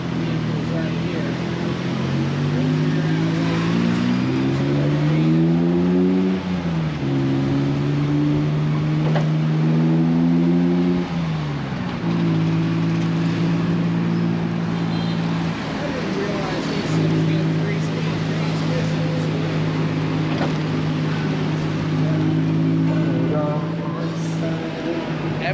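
Three-speed tuk tuk engine on a Bangkok ride, a steady droning motor whose pitch climbs and drops repeatedly with gear shifts, loud and close, with traffic noise around and people talking over it.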